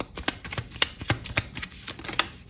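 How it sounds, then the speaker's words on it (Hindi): Tarot cards being shuffled by hand in a quick run of soft riffling slaps and flutters, close and clear, with no talking over it. "last shuffle"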